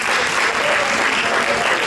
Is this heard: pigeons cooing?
no